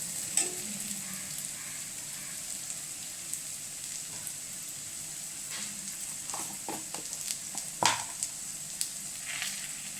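Spices and turmeric powder frying in oil for a bitter gourd theeyal, a steady soft sizzle with occasional stirring scrapes and faint clicks, close and fairly quiet throughout.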